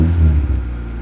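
Acura Integra race car engine idling steadily, a low rumbling drone with harmonic hum, close and continuous without voices.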